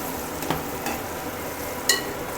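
Chopped onions with a pinch of salt fry in a pan, giving an even, nearby sizzle broken by a few quick stirring scrapes, with no talking.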